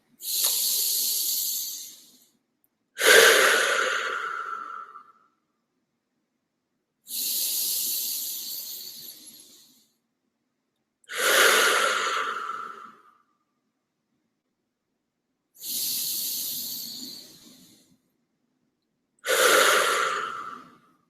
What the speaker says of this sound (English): let's take 3 breaths together